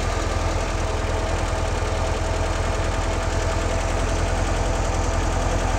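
A Porsche 356 engine with Zenith carburetors idling at 1,200 RPM, a loud steady mechanical thrum with constant rhythmic pulsing, close up with no voices.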